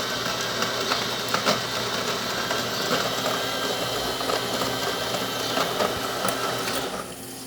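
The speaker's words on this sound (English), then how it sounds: "let's go ahead and press the cappuccino button" A DeLonghi Magnifica S coffee machine runs a cappuccino cycle, making a steady mechanical whirr and pumping drone with faint clicks, then fading and stopping near the end.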